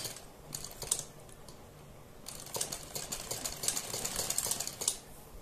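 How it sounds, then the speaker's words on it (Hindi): A sewing machine stitches down the middle of a pressed fabric strip with a soft, rapid mechanical chatter in two runs separated by a brief pause, fairly quiet and with no voices. "पट्टी पर इस पर हम प्रेस करने के बाद बिल्कुल बीच में इसके हम एक सिलाई लगाएंगे।"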